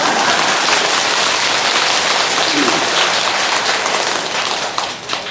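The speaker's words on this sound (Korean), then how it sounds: "자기 자신을 확인하기 위해서 자꾸 박수를 쳐야 돼요." Dense, continuous hand clapping from a crowd at a Buddhist memorial service for the dead, a loud, even patter that keeps going throughout and fades slightly near the end.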